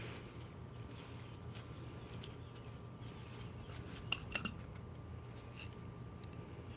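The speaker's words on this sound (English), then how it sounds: "Trying to get this bowl off." A Honda Acty carburetor float bowl being worked loose, faint metallic clicks and taps over a steady low hum, with a few sharper clinks partway through.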